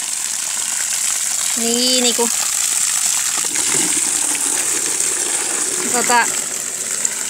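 Water gushes steadily from a well pump at a Finnish cottage, a continuous broadband rush throughout, with people speaking briefly over it.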